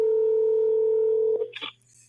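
A telephone dial tone hums steadily and loudly while a guest is being called, then cuts off abruptly into a couple of brief electronic blips and near silence.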